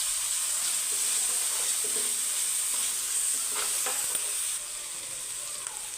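Green chillies and ginger paste sizzle steadily in a hot pan, a continuous close frying hiss with a few soft stirring scrapes, easing slightly toward the end.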